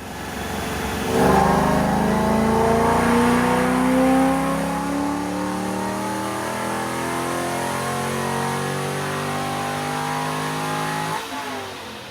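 A supercharged Corvette Z06 engine revs hard on a dyno, climbing in a long, loud, steady pull for several seconds, then holding at high speed before cutting off abruptly, with no voices over it.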